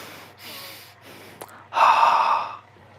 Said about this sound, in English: I hear you breathing.